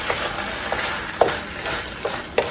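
Chicken udon ingredients with teriyaki sauce and frozen vegetables are stirred in a hot pan, giving a soft continuous sizzle broken by a few light scraping taps of the utensil, close and alone.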